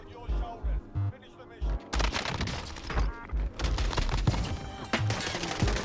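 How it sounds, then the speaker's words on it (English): Mac 10 submachine gun fire in the video game Warzone, rapid bursts of shots with thumping low impacts over a busy, loud game soundscape. "Taking shots at it with a Mac 10."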